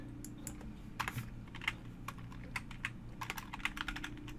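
Quiet computer keyboard typing, irregular clusters of soft key clicks at close range with a low hum behind them and no talking.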